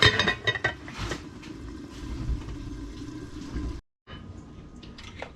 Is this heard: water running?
yes